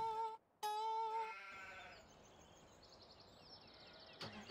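Sheep bleat in Farming Simulator 17, two clear nasal bleats up close followed by quieter overlapping bleats from the flock, with a sharp click near the end.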